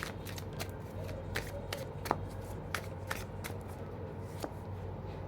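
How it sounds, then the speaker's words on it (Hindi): Playing cards handled and drawn from a deck, giving a series of crisp, irregular snaps and slides close by over a low steady background hum, with no talk. "मैंने चारों कार्ड निकाली ये डेक से"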